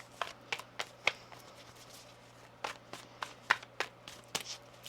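Tarot cards are shuffled by hand at close range, giving sharp papery riffles and taps in irregular bursts over a quiet background hum, with no talking.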